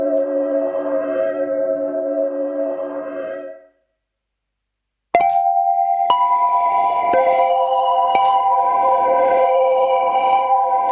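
A sustained, echoing tone from a Pladask Stereo Dradd delay pedal with its clock set low fades into brief silence, then a new note strikes and repeats in slow, stacked, self-looping delays that keep ringing.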